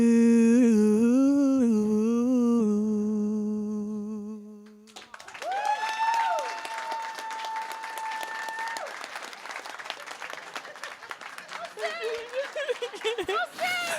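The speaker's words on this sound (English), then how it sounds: "give one more round of applause for Lindsay" A held, sustained sung note ends the song, then a conference keynote audience breaks into warm applause for Lindsay, a full, steady round of clapping with some cheering and whistles that continues to the end.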